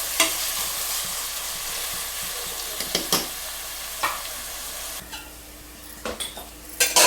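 Onions frying in a pan for mutton biryani, a steady sizzle with scraping stirring strokes and occasional spoon knocks against the pot, close and continuous with no talk.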